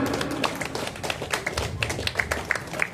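Scattered hand claps from an audience at a neighbourhood RW leader's inauguration ceremony, crisp and uneven, forming a loose patter of fairly close claps with a few sharper ones standing out.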